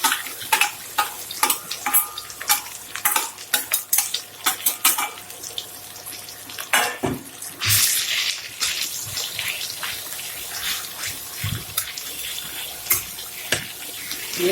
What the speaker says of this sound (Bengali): তেলটা গরম হয়ে গেছে। এবার আমি মোচা বাটারটা পেস্টটা দিয়ে দিলাম।